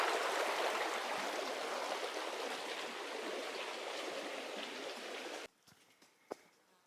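A steady, loud rush of stream water at a trail crossing, close by and alone, cutting off near the end to a few faint taps.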